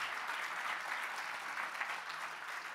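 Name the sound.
audience applause for teams at event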